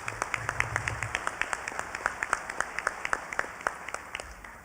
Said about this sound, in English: You'll give them a round of applause.